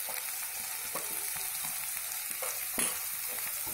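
Onions and spices sautéing in hot oil for Bihari-style egg pakoda, a steady close sizzle with occasional stirring scrapes and no talking.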